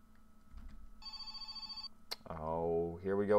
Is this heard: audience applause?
no